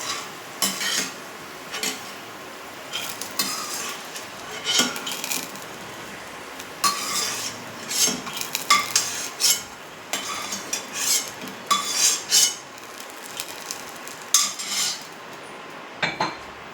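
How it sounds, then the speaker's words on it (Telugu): Freshly fried peanuts are scooped into a mixer jar with a metal spoon, making irregular clinks and scrapes against the vessels at close range, quiet between the taps. "పల్లీలు అయితే మిక్సీ జార్లోకి తీసేసుకుందాం."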